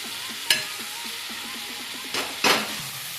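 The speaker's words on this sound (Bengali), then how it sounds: "চিকেনটা দিয়ে মশলাটা একসাথে ভালোভাবে মেশাবো" Chicken pieces stirred into cooked-down spice masala in an oily pan for chicken bharta, giving a steady close sizzle with a few sharp spoon-on-pan scrapes and clanks.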